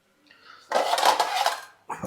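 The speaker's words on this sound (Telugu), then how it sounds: "ఇప్పుడు ఒక కంచెం తీసుకుంటా నేను" A metal plate picked up in a home kitchen clatters and scrapes loudly for about a second, with a short metallic knock at the end and faint rustling before it.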